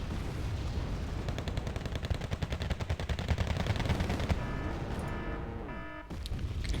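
Gunfire exchange in the war game Wargame Red Dragon against T-55 tanks, with dense rapid machine-gun bursts and cannon shots. The volley is loud and continuous for several seconds, then eases into engine rumble.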